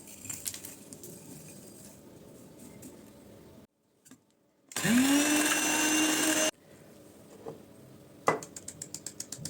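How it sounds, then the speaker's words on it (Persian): A grinder powders dried carrot and onion, running in a loud steady whirring burst that stops abruptly, framed by quieter clattering and handling with a rapid ticking patter at the end. "من در مرحله اول هویج و پیازم رو توی دستگاه آسیاب میریزم و پودرش میکنم"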